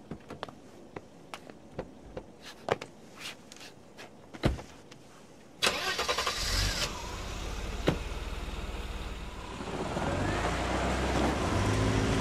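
A car interior while driving, with a low steady engine and road hum that swells after a few seconds of scattered clicks and knocks, faint and without speech.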